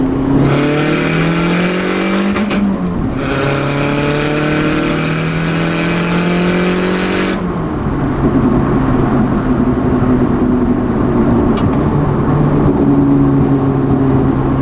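Turbocharged Toyota GT4 with a BEAMS engine, road-mapped, accelerating hard in second gear: the engine note climbs steadily, drops at sharp gear changes, then keeps pulling loudly from inside the car, with no talking.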